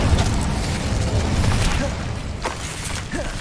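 Fire-spell blasts and magical combat in Hogwarts Legacy gameplay, a dense, continuous roar of bursts and crackling booms with no clear gaps, loud and close.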